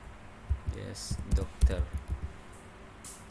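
Keys clatter on a computer keyboard as a database command is typed, a quick burst of close, irregular clicks and thumps over a faint hum.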